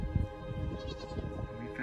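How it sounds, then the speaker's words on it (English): Goats bleat in a wavering, drawn-out call close by, over a low background hum and faint steady tones. "We found the goats."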